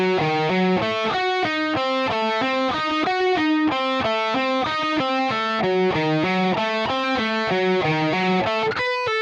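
Slow distorted electric guitar diminished lick from a solo, a long run of evenly spaced, clearly picked notes stepping up and down in a steady rhythm, loud and alone with no talking.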